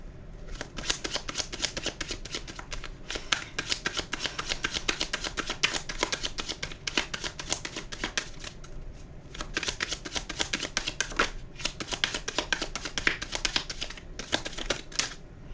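A deck of tarot cards is shuffled over and over, a close, dry riffling and flicking that continues almost without pause, with only brief gaps between runs.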